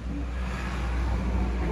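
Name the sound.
road traffic passing by the balcony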